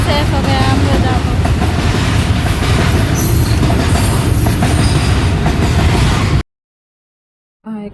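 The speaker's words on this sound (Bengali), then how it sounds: "এই ট্রেন কখন শেষ হবে," A long train rolls past close by, a loud, steady rumble of railcars with clickety-clack wheel beats and occasional squeals that runs without a break, then cuts off abruptly into silence near the end.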